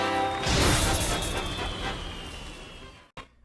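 Orchestral game music from the Final Fantasy IX soundtrack: dense sustained ensemble chords with a swelling passage, playing steadily before stopping suddenly at the end.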